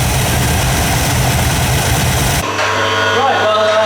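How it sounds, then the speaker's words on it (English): A car engine idles smoothly with a steady, dense low rumble throughout. Its tone shifts abruptly partway through, but the engine keeps running. "The engine's driving really nice, it's lovely and smooth"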